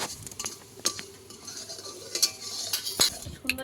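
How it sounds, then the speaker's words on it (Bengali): A spatula scraping and clinking against a steel bowl while caramelizing sugar, with soft irregular stirring scrapes and several bright metallic taps, close and fairly quiet. "এইবারে খুন্তি দিয়ে নেড়ে দেবো।"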